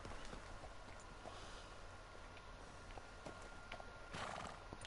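A horse in the video game Red Dead Redemption 2 gives faint hoof clip-clops and a soft whinny over a quiet, steady background hiss, with no talk.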